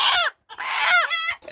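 Fancy breed hens on a poultry farm give a few close, loud clucking calls in short bursts, one rising squawk followed by a longer drawn-out cackle.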